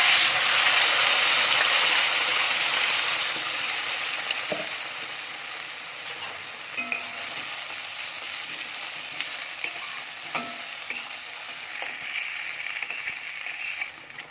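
Ground spice paste with cumin roasts in a pan for a fresh pigeon-pea curry, a dense continuous sizzle loudest at first, then easing, with occasional clinks and scrapes of a spatula.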